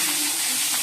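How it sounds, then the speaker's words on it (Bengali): Potato pieces frying in hot oil give off a steady, close broadband sizzle with a hissing, steam-like edge, continuous for under a second before cutting off abruptly. "এই যে বন্ধুরা, আলুগুলো এবার ভাজছি"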